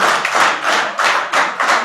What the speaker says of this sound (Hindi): पूरे उत्साह के साथ तालियां बजा रहे हैं